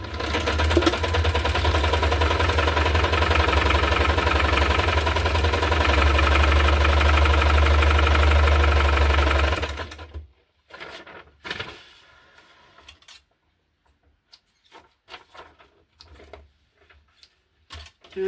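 A sewing machine runs fast and continuously for about ten seconds, stitching zigzag lines through a handmade junk journal, then stops, leaving scattered short bursts of handling and fabric noise.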